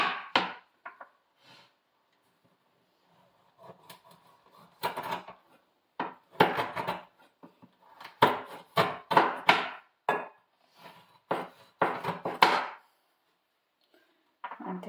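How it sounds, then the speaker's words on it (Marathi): A knife cuts through a whole nutmeg on a board while a modak filling is prepared, giving irregular, sharp close clicks and knocks in uneven bursts, with no talking. "मी जायफळ कट करूनच वापरते."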